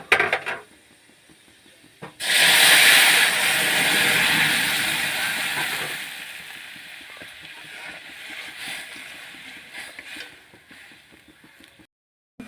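Jute greens drop into a hot pan of fried garlic and dried red chillies with a sudden loud sizzle that slowly fades to a softer crackle, with faint clinks of utensils.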